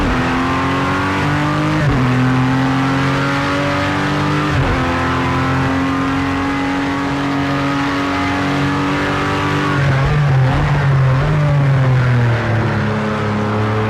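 A race car runs at full throttle in a shakedown before the 2019 24 Hours of Daytona, its loud engine note climbing and then dropping sharply at several gear changes, heard from inside the car with no talk.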